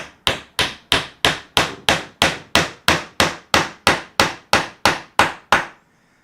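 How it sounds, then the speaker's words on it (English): A glued wooden dowel is driven into a drilled hole with a hammer, about fifteen sharp, evenly spaced strikes in a steady rhythm, loud and close with nothing else behind them. "and hammer it in."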